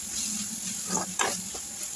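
Tomatoes sautéing in oil in a pan for paneer biryani: a faint, steady sizzle with a few soft stirring scrapes and light spatters close by.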